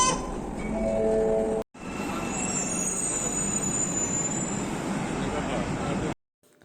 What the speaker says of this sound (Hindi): ट्रेन आ गई, डोर खुले हैं और हम ट्रेन के अंदर एंटर हो गए हैं।